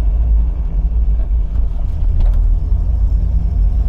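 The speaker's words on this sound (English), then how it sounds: "But the engine sounds an awful lot happier." Low, steady engine rumble of a classic MGB being driven, a loud continuous drone with some road noise and light rattles, no voices over it.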